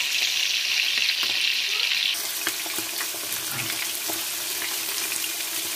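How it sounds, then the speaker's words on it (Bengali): Fish sizzles in a hot pan, a hissing crackle that is bright and loud at first, then settles into a softer steady fry with scattered pops and pan clinks, close by and with no talking. "তো আমি মাছটাকে ভাজে নিই।"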